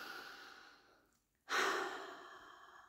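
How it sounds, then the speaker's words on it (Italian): A single deep breath is drawn in quietly during an EFT tapping session, then let out with a soft, close sigh after a brief silence. "Fai un bel respiro."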